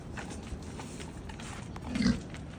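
Farm pigs being given alfalfa cubes as a treat grunt quietly against a low background hum, with one fuller oink near the end.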